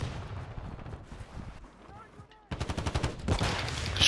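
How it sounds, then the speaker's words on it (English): Rapid bursts of gunfire crackle in a dense, fast volley after a quieter stretch, loud and close, with game-like ambience underneath. "because I could hear gunfire"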